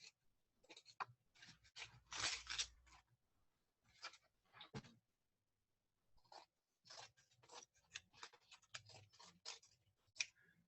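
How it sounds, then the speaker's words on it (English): Scissors snip and crinkle through aluminum foil during a tarboosh hat-making class, in quiet, irregular bursts of crunching and rustling with short pauses between cuts. "I've been using these scissors to cut aluminum foil"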